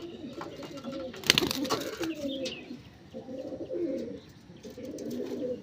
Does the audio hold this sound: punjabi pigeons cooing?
yes